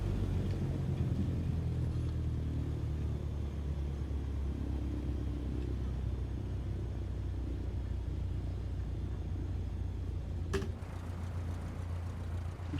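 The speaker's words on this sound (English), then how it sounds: "Now let's get the plane parked." A Cessna 152 taxis to general aviation parking after landing. The engine drones in a low, steady rumble heard from inside the cabin, with one brief click near the end and no speech.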